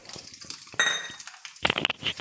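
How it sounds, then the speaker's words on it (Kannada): Peanuts tumble into hot oil in a pan already holding mustard seeds and chana dal, a close clatter and clink followed by a rattling sizzle as they settle and fry. "ಹಾಗೆಯೇ ಕಳ್ಳೆ ಬೀಜ ಹಾಕ್ತೀನಿ"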